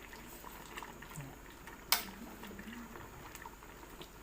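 A pot of bamboo shoot curry bubbles at a low, steady boil, faint and continuous, with one sharp clink partway through and quiet background noise.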